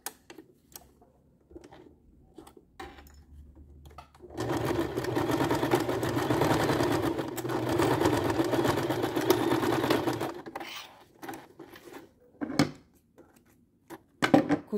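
Sewing machine stitching a Kipling-style school pencil case, running in a steady close whir for about six seconds, framed by quiet handling clicks and rustles of fabric before and after.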